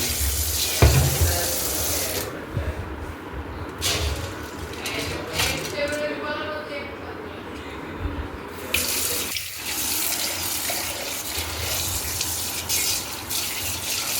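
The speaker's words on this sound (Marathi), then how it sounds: "आता आपल्याला धुवून घ्यायचे आणि चाळण असेल तर चाळणमध्ये आपल्याला पाणी नितरायला ठेवून द्यायचे" Ration rice being washed under a running kitchen tap, a loud continuous gush of faucet water with splashing and grains stirred by hand, briefly interrupted by a clatter, with occasional voice in the background.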